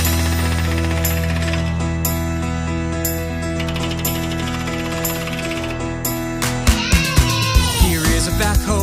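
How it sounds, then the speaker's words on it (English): A series of heavy, rhythmic pounding impacts from an impact hammer near the end, each a sharp thud against the ground, following a sustained musical backdrop. "An impact hammer smashing hard into the ground."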